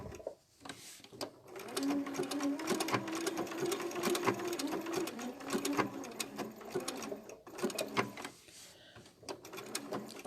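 A sewing machine stitches machine appliqué in a fast, even whir that runs continuously for several seconds, quiet and close, with soft handling noises at the start and end.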